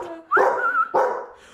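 A dog barks indoors, two loud, close barks in quick succession, the first drawn out into a yelping howl, the second shorter.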